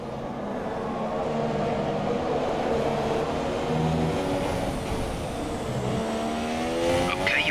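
Race car engine from the F1 2017 video game, a steady loud whine holding throughout with a rising pitch sweep near the end as a car passes close.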